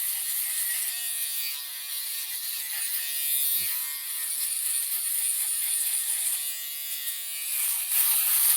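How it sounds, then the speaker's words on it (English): A barber's electric shaver buzzes steadily and close up as it cuts hair up to the guideline during a mid skin fade, a continuous whirring drone with slight shifts as it moves across the head. "Now, I do bring the shaver all the way up to the guideline."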